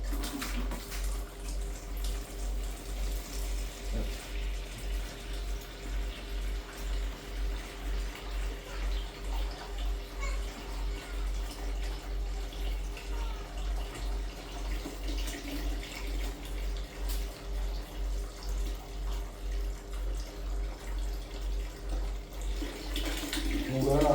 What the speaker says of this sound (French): je vais vider un peu d'eau